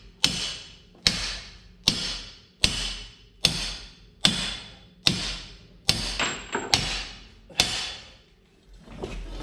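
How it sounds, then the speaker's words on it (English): Ten sharp, evenly spaced metallic hammer blows ring out close by as a track adjuster part on a TD8E bulldozer is driven in, each strike decaying quickly, with a brief scrape near the end. "It may go in with a hammer."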